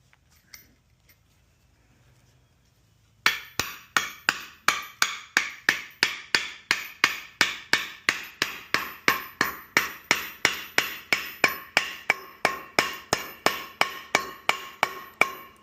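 Repeated hammer blows tap a U-joint into its seat on the driveshaft of a 1962 Chevy Biscayne. Sharp metallic pings follow a short quiet lead-in and land in a steady, fast rhythm close to the listener, with no talking.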